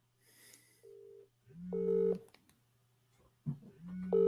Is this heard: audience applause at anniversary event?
no